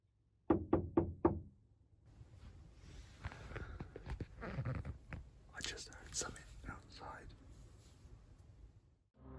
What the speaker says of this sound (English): we can also hear someone knocking on the window